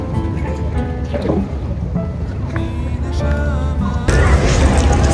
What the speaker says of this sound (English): You were on a gondola